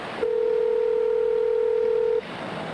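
A telephone sounds a single steady tone for about two seconds as a call is placed, loud and close, with quiet room noise before and after.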